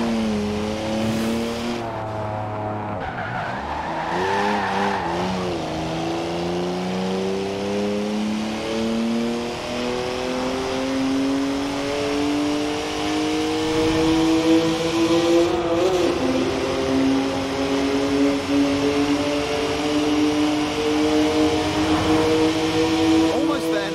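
BMW M Coupe with a three-litre twin-turbo straight-six revving in a driving game, engine note climbing through gears with a shift dip and rising pitch, loud and continuous with a voice talking underneath.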